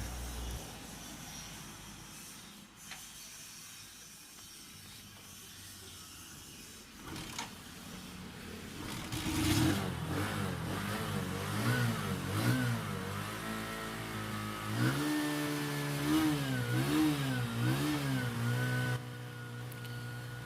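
Honda CT125 motorcycle with loose compression, engine sputtering then catching and running, followed by repeated rising and falling revs, close and fairly loud.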